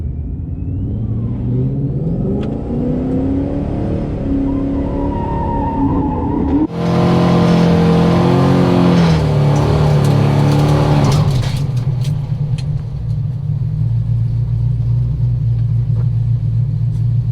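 Rally cars race at a stage event, with engines revving and rising in pitch, then a loud burst of acceleration and tire noise close by. It settles into a lower steady rumble as a car pulls away.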